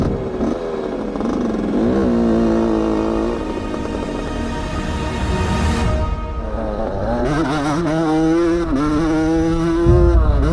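A 125cc dirt bike from an older era with drum brakes and a single shock revs loudly and close by, its single-cylinder engine note rising and falling in repeated climbing blips with no talk over it.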